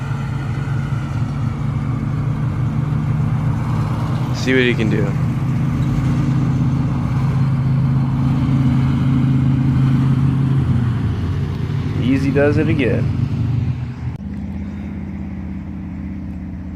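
A car idles and revs, then pulls away down a street with a steady mid-pitched engine rumble that drops off near the end, while people talk nearby.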